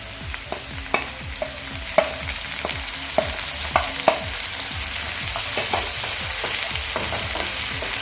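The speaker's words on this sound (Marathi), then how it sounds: "आता आपण यामध्ये टोमॅटो घालून घेऊया।" Onion and tomato frying in a pan for a dried-shrimp vegetable dish, with a steady sizzle under repeated scraping stirs, spatula clinks landing every second or so, close and moderately loud.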